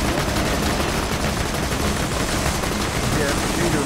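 Machine gun fire in Borderlands 2, a dense, continuous roar of rapid shots over constant loud background noise with no pause for the full length.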